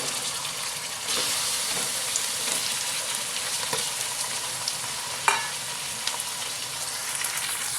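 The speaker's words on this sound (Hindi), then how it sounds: "चिकन को 4-5 मिनट अच्छे से फ्राई कर लेंगे" Chicken frying in a pan with golden-browned onions and garlic paste for a karahi, a steady close sizzle with occasional stirring scrapes and clinks; no talking.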